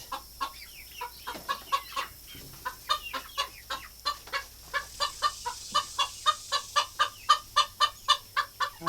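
Chickens cluck in a quick, repeated rhythm nearby, a steady series of short calls growing louder and more regular.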